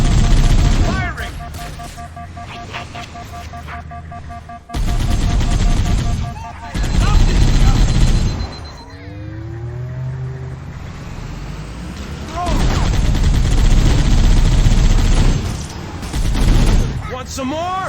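Gunfire in Halo: Combat Evolved Anniversary, with bursts of automatic weapon fire and engine rumble from vehicles across a long stretch, loud and dense, with electronic whines and sweeps between volleys and voices speaking at points.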